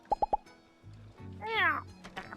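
A cat in the video game My Time at Sandrock gives a single short meow after three quick plopping taps, with a low game hum in the background.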